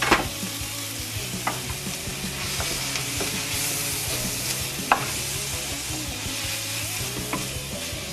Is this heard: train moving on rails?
no